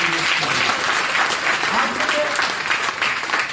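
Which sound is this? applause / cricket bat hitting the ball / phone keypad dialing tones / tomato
applause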